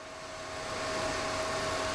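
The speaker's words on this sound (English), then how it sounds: "I'm just running the test software from the PC, which will let you move the spindle in all the different axes." The spindle of an X-Carve CNC machine is jogged along its axes, giving a steady motorized whine with a faint tonal hum. It is quiet at first and grows a little louder as the motion continues.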